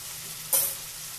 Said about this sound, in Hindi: आप देख सकते हैं कि ये सभी सब्जियां अब बहुत अच्छी तरह से ग्रिल हो चुकी है।